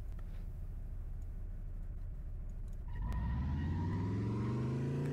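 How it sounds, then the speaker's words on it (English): A simulated car engine in a Unity vehicle physics demo idles with a low steady rumble, then revs up, its pitch climbing smoothly and steadily as the car accelerates, loud and close with no talking. "see our car accelerates a lot slower."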